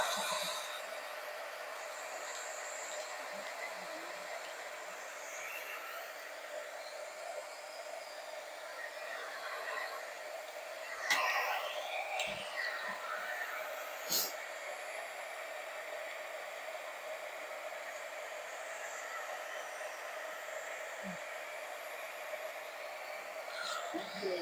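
A hair dryer blows on a broom in a broom-making shop, giving a steady, fairly quiet whooshing hiss with a few soft knocks and clicks.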